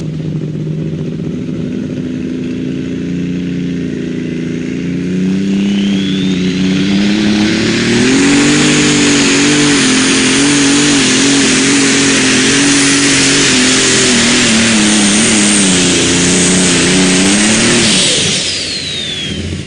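Light super stock pulling tractor roaring under heavy throttle at a Benson, North Carolina tractor pull, a loud sustained engine drone rising and holding with rattling clatter for most of the clip, then dropping off at the end.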